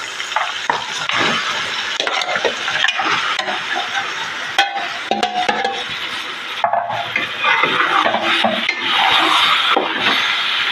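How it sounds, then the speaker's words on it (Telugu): Chicken frying in a masala gravy for a hotel-style curry, with steady close sizzling and repeated scraping stirs of a spoon against the pan, no talk over it. "మసాలా అంతా పట్టే వరకు కలపాలి"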